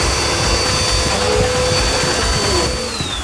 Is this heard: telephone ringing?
no